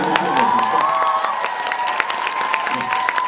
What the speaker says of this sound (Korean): 여러분께서 따뜻한 환호와 박수 이렇게 쳐주셨는데